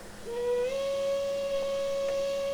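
A steam locomotive whistle on a historical 4-4-0 engine in the Trainz 2019 train simulator sounds as one long, steady tone that steps slightly higher early on and holds loud and clear.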